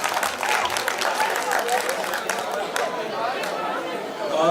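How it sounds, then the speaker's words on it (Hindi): An audience at a school annual day claps in continuous, fairly loud applause mixed with crowd chatter and voices. "आप सब सारे बंदे ताली बजा दीजिए"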